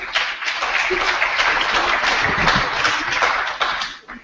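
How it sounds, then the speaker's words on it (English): Audience applause at a public debate, a dense, steady wash of clapping that fills the room for several seconds before tapering off, close and loud with no speech over it. "A round of applause for Mr. Pogrund, please."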